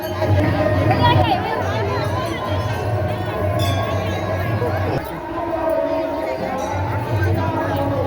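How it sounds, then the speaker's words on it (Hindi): Large crowd at the Otebandh fair in Chhattisgarh, a dense steady hubbub of many voices with children's chatter and occasional cheers, loud and close throughout. "देखो इतना सारा भीड़ है यहाँ।"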